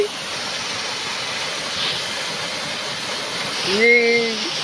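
Waterfall at a scenic spot in Ganjam, Odisha, India: steady broadband rushing water throughout, with a brief voice rising over it near the end.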